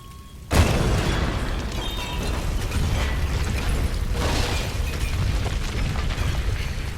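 An explosion and collapse in the Tomb Raider video game: a sudden heavy boom hits early, then a loud, sustained rumbling of crumbling debris continues to the end, with no talk.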